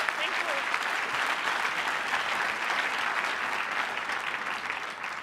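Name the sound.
audience applause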